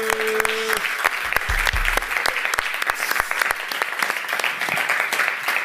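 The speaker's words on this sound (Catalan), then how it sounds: "Un aplaudiment per ells!" A studio audience on a Catalan comedy show applauds the band, brisk clapping that runs for several seconds after a brief musical note fades.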